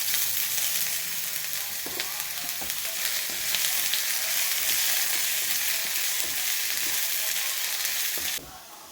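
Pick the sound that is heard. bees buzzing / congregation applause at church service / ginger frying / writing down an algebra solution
ginger frying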